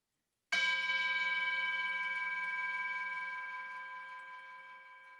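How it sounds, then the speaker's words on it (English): A single meditation bell struck once, ringing out with a clear sustained tone and shimmering overtones that slowly fade over several seconds in a quiet room. "I'm going to begin with a bell."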